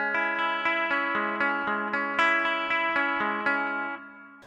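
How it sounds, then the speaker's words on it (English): A minor chord on acoustic guitar, processed with delay and echo effects, is strummed repeatedly in a steady rhythm, with sustained harmonic tones and echoing repeats that fade out at the end. "So I just record acoustic guitar and add the delay and the echo shit later."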